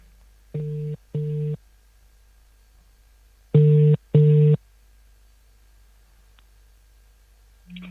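Telephone line tone during a call being placed: two pairs of short, even buzzing pulses separated by a long silent gap, clear and moderately loud, with no talk over them.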